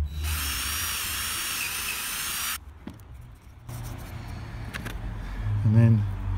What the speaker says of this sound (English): Now I'm going to drill a hole there big enough to accept my pencil.